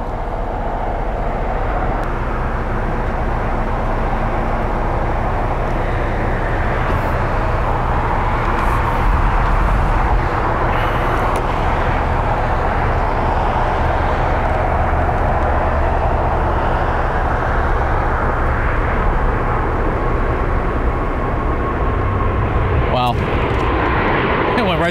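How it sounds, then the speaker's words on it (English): An American Airlines airliner passes overhead, a broad steady engine roar filling the whole stretch, with people talking over it. "that's looks like an American Airlines flight is what we're looking at here."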